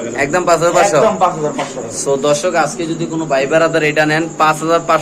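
Fancy pigeons, among them a Spanish breed, coo in low rolling bursts close by, mixed in under steady talking.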